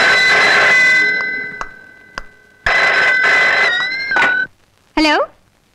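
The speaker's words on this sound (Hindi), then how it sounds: "आपका टेलीफोन है।" A telephone rings in two loud bursts, then a couple of clicks and a short rising warble; no speech over the ringing.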